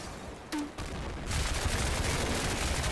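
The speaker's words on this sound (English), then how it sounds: "They're shooting at something out there." Gunfire in the war game Combat Mission Black Sea: a sharp shot, then a dense crackle of distant rifle and machine-gun fire rolling on steadily against low battle rumble.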